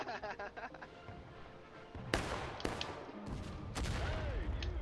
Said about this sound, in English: It was pretty good shooting by the Union.